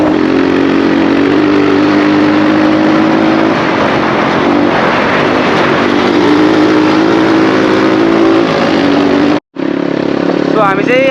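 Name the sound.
dirt bike engine riding on an off-road trail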